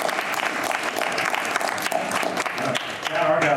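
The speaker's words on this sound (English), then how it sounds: "I hope you'll settle for a round of applause from me" A round of applause fills a city council meeting, steady clapping from a modest crowd of attendees throughout, with a voice briefly heard near the end.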